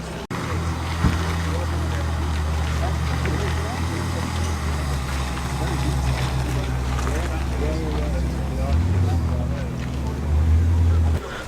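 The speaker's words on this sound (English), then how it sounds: "the Maserati's off, making its lovely V8. Naturally aspirated, I want to say burble" A naturally aspirated Maserati V8 burbles with a low, steady rumble at an evening car meet outdoors, swelling slightly near the end while someone talks over it.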